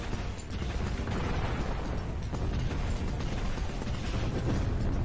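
Bombs go off in the Nintendo DS game Super Control Mecha MG, dense rumbling blasts and mechanical clatter filling a continuous, loud stretch of game sound.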